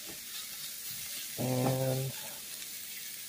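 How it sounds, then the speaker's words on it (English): Shrimp and peppers for fajitas sizzling in a frying pan, a steady soft hiss of frying heard close up, with a voice briefly speaking over it. "there's all the shrimp on the pan now. We can all start cooking."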